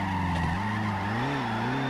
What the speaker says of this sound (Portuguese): Mas a gente tá fazendo drift aqui no meio da cidade, né, mano?